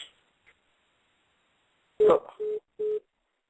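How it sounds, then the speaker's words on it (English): A phone call being placed, with a steady tone sounding three times in short evenly spaced bursts after near silence, each one loud and clear with no talk over it. "So, call Big T on your phone right now"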